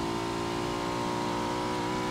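Engine of a three-seat motorbike in the video game PUBG, a loud, steady mid-pitched whirring drone with a sustained revving tone, heard alone and close.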